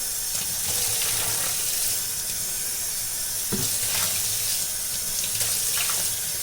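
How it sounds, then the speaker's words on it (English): Running water rinses out a Vitamix Pro 500 blender container, a steady broad splashing hiss from the tap and sink that carries on without a break, with a few small knocks and splashes of the container as it is handled. "Take this now, pour it out. I'll give it a little quick rinse."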